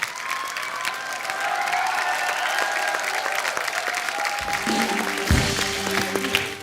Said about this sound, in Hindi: एक बार हमारे सारे कैप्टन्स के लिए जोरदार तालियां हो जाएं